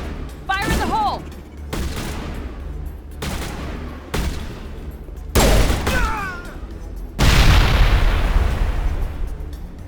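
Explosions and rapid gunfire from a Mass Effect combat scene, with repeated loud bursts and booms and a big blast near the end. A voice briefly shouts over the firing.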